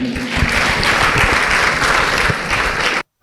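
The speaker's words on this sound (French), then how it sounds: "je vous demande de les applaudir" Guests at a students' gala dinner in Ouakam burst into loud, sustained applause, a dense roar of many hands clapping evenly for about three seconds before cutting off abruptly.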